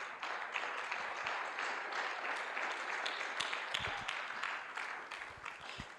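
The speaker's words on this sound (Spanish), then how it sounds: "denles aplauso al Rey" A congregation at a church service claps together in steady, sustained applause, moderately distant, with a few sharper individual claps standing out.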